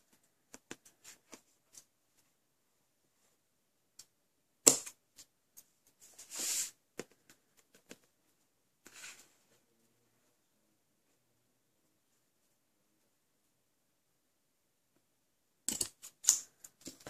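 Scissors trimming ribbon tails on a folded paper gift box, a few soft, sparse snips and small rustles close by, separated by long near-silent gaps.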